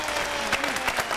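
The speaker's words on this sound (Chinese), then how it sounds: "现在掌声给一号选手。" A live audience at an outdoor variety show in Budai, Chiayi claps for the first contestant, a dense, steady patter of applause with a faint crowd murmur underneath.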